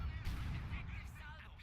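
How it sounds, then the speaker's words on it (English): Artillery fire in the Battle for Caen video game: a dense, continuous barrage of heavy booming blasts and low rumbling that runs without a break through the whole short stretch. "Some really nasty artillery going on here."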